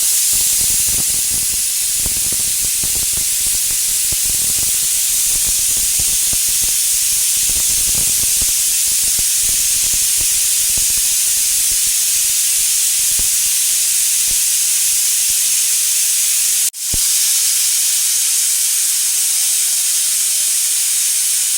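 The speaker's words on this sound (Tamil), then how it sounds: "குக்கர் மூடி போட்டு இப்போ விசில் விடலாம் வாங்க." Pressure cooker on the stove while chicken curry cooks, a loud, continuous, close hiss of escaping steam that cuts off abruptly near the end, leaving a faint low hum.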